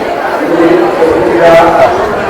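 Busy murmur of a large crowd inside the Swami Samarth temple at Akkalkot, close voices overlapping in a brief, fairly loud wash of chatter.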